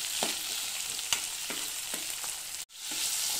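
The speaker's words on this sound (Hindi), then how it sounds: "प्याज और ग्रीन चिली अच्छे से फ्राई हो गए हैं" Onion and green chilies frying in a pan make a loud, steady sizzle, broken by a few sharp stirring clinks and a brief cut near the end, with no voices.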